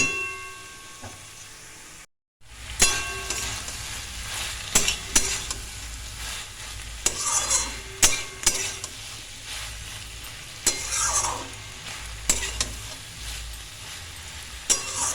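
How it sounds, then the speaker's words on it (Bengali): Prawns being stir-fried in a pan, with steady sizzling and frying, repeated scraping stir strokes and clinks throughout, and a brief silent gap near the start. "এটা কিন্তু আমি খুব সুন্দর করে ভালোভাবে কষে নিয়েছি"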